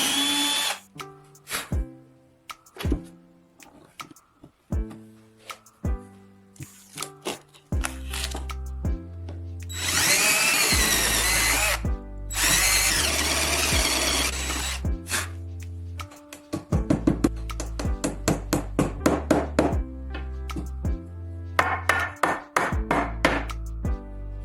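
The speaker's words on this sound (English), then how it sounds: "Drill holes at the marked points." Repeated bursts of a power drill whirring into wood, short and long runs with pauses between, loud and close, with some tapping and handling noises.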